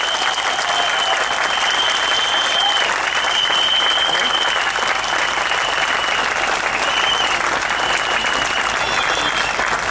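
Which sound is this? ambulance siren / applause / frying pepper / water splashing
applause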